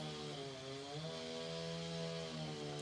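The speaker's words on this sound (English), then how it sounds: "We're in chainsaw country." A chainsaw runs steadily in the distance, its engine note wavering slightly in pitch, faint but continuous with no talk over it.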